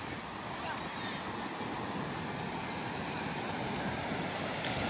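Steady broadband wash of sea surf on a beach resort shore, continuous and fairly faint, mixed with wind noise on the microphone.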